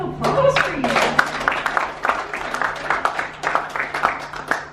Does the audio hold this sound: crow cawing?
no